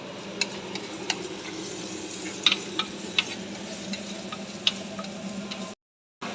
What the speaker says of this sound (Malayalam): കാന്താരി, മുളകും കൂടി ചേർത്ത് നല്ലതുപോലെ നമുക്ക് വഴറ്റിയെടുക്കാം